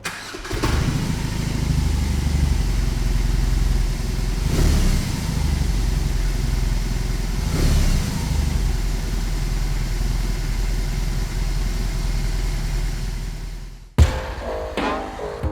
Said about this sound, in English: let me give you a quick listen on how this big Boxer engine sounds like.